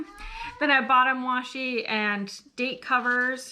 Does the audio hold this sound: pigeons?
no